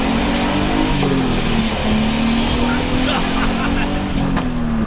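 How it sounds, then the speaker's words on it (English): A modified car with a turbo runs close and loud, its engine droning steadily while a high turbo whistle glides down, then sweeps back up and holds before fading. "I now have the turbo sounds that I always wanted."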